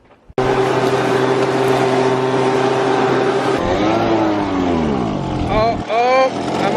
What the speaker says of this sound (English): I'll blow it off with the leaf blower on the back side here